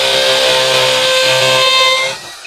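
A DongCheng DCJZ2090i cordless impact drill spins clockwise, a loud, steady high-pitched motor whine held close for about two seconds before cutting off sharply.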